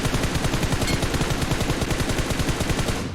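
Rapid M4 rifle fire in a video game, a dense, loud burst of evenly spaced shots running steadily for about three seconds with no talking.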